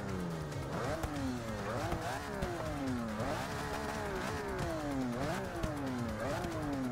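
Six-cylinder and twelve-cylinder cars in Forza 6 rev in turn, engine pitch repeatedly sweeping up and dropping back in quick, sharp climbs, loud and close.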